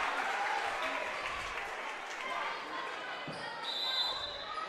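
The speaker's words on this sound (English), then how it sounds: "You can see the fans in the student section cheering on the Lady Eagles." Student-section fans cheering at a high school girls' volleyball match for the Lady Eagles: a steady wash of crowd noise and applause in a gym, with a commentator talking over it throughout.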